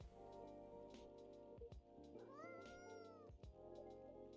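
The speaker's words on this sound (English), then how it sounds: "I love the cat's meowing and I still kept mewing for it anyway" A cat in the video game Coffee Talk 2 gives a drawn-out, rising and falling meow, heard faintly over steady background game music.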